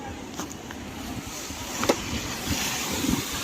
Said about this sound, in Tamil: பாருங்க மக்களே, கடல் எவ்வளோ பக்கத்தில் இருக்கு பார்த்தீங்களா.